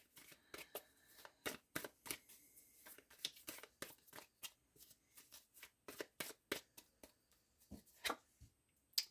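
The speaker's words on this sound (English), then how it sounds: "So I'm going to shuffle for your wall, and then we'll shuffle again and get 4 insight cards." Tarot cards shuffled close up, a steady run of sharp papery riffles and snaps in uneven rhythm, with no talking.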